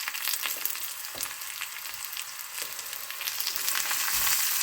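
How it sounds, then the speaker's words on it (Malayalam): Dried red chillies and curry leaves sautéing in a pan for a Kerala dried fish curry, a steady bright sizzle with a few soft stirring knocks that grows slightly louder toward the end. "നമുക്ക് ജസ്റ്റ് ഒന്ന് സോട്ട് ചെയ്യാം."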